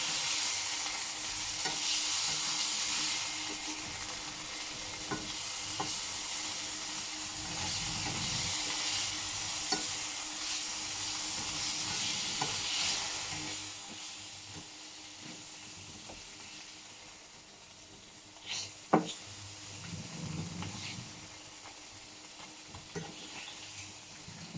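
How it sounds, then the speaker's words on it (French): Meat sears in oil in a frying pan with a continuous hissing sizzle, louder at first and easing later, with scattered stirring clicks and a few sharp knocks. "on saisit la viande, ça veut dire on la grille à l'extérieur"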